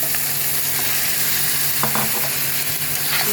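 Meat, chicken tossed into spice paste frying in oil, sizzles loudly and continuously, with a few scraping stirs and clinks of a utensil against the pan rising briefly over the steady hiss.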